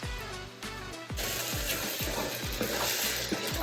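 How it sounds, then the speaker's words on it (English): Pasta and vegetables get stirred and tossed in a pot with oil to build a sauce, making repeated soft low thumps and a constant frying hiss, close by and without talk. "I'm just gonna keep stirring and tossing and creating that nice sauce."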